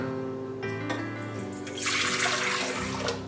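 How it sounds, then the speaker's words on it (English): Lukewarm water pours into a KitchenAid stand mixer bowl fitted with a dough hook while making basic white bread, a steady splashing stream that swells louder midway, close and alone. "pour it into the KitchenAid mixer"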